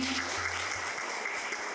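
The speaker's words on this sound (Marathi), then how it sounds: "आपण जरा टाळ्या जोरात वाजवल्या पाहिजे" Audience applause at a book launch ceremony in Mumbai: steady, dense clapping that stays at an even level throughout, with no voices standing out.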